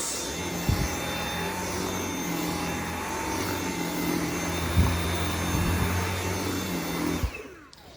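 A Dyson V7 cordless vacuum cleaner runs steadily with a whining motor hum and a floor head brushing across the floor, a few soft knocks mixed in, before the motor winds down and stops near the end.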